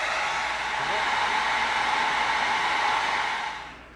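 Heat gun blowing hot air onto EVA foam while shaping a rounded prop detail, a steady close broadband whoosh that holds evenly for several seconds before tapering off.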